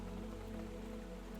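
Steady rain falls at night outside a pottery studio, a dense, even patter that holds without pause, close and moderately loud with no voices.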